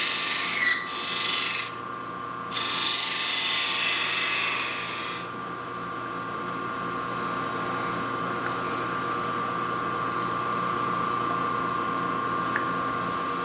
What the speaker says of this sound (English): With my point tool and with the lathe running, I need to come down just a little bit more. I'm establishing a taper on this.